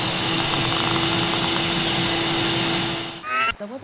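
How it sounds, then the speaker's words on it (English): A household vacuum cleaner runs with a loud, steady whirring drone and a constant motor whine, then shuts off abruptly near the end. "vacuum cleaner,"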